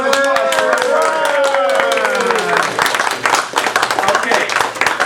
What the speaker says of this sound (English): Let's have a warm round of applause for Ron.